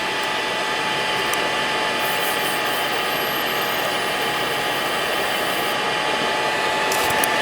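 A Mr Carve M1 Pro galvo laser engraver runs a calibration job with a steady mechanical whir and buzz of fans and galvo motors, constant and fairly loud, with faint high clicks and brief bursts overhead.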